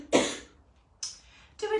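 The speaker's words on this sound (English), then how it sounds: "Excuse my cough." A single sharp cough up close during a yoga session, followed by a shorter second cough and a brief throaty sound.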